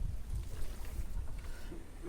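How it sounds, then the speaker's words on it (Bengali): A boat glides across Ghoramara beel, a clear-water lake near the Kumar river in Faridpur, with a low, steady rumble of water and wind around it, fairly faint and without speech. "এই যে ওদের ভাই আছে, নৌকা চালাচ্ছে।"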